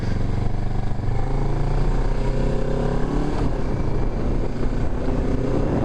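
A motorcycle ridden on a road during a motorcycle licence lesson, its engine droning steadily and loudly with rising and falling tones as it accelerates, wind rush mixed in, no talking.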